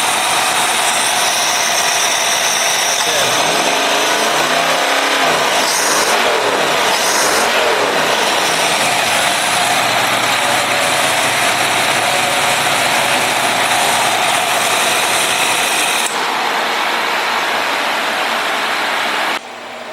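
A Ford 331 stroker V8 with a Pertronix distributor runs loud and close, rising and falling through a couple of revs in the first seconds before holding a steady, raspy idle that drops slightly near the end.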